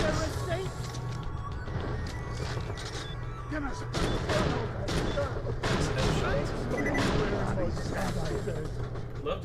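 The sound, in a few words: shotgun fire in video game Borderlands The Pre-Sequel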